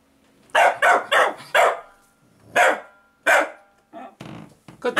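An English show-type Cocker Spaniel barks loudly and close by: a quick burst of four sharp barks, then two spaced single barks, followed by softer grumbling yips.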